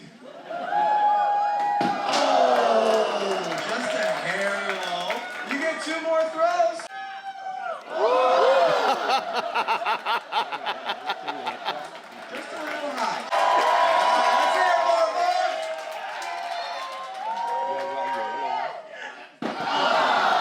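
Red team players shout and cheer during a game in a cruise ship's Princess Arena on an Alaska sea day, with loud crowd noise, bursts of voices and occasional slams and claps running throughout, and people talking over it.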